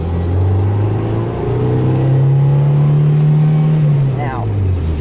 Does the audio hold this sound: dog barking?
no